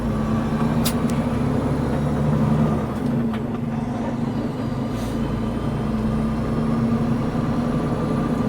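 Diesel engine of a truck hauling excavators drones steadily from the cab, a low continuous rumble with a brief swell early on as a gear is grabbed, no voices.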